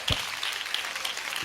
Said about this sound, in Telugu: కొనియాడండి మరి, చప్పట్లు కూడా బిగ్గరగా